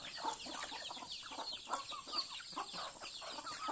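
Village chickens (ayam kampung) cluck and chatter together in a farmyard, a steady, busy mix of overlapping clucks at moderate distance with no speech.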